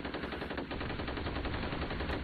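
Sustained, rapid automatic gunfire from a three-round-burst rifle in the shooter game F.E.A.R. Extraction Point, loud and continuous throughout, with shots blurring into a dense rattling barrage and no voices.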